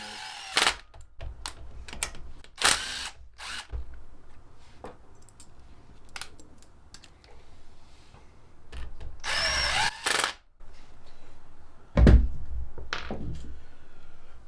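A power drill runs bolts down on a YFZ450/WR450 hybrid dirt bike's kick-start and starter assembly, giving repeated short bursts of whirring and clicking with pauses between them, close and loud, with no talk.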